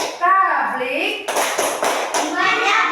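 Children play the tepuk Rasul rhythmic clapping game in a classroom, their sharp hand claps landing in quick bursts over loud kids' chanting and speech.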